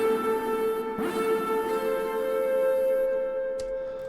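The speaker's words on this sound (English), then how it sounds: "Kind of just like a random distorted sound in the background" Distorted one-shot sample from a Sapture kit in an FL Studio beat, a steady buzzy tone with a gritty noisy wash, plus a brief crackly burst early on and a faint click near the end.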